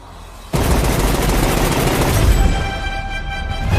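Gunfire from a John Wick 3 movie trailer: after a quiet lead-in, a loud dense burst of rapid automatic shots erupts and continues as a sustained volley with booming low end and ringing tones.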